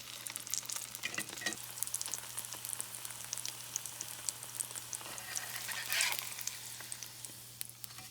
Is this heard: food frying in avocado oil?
yes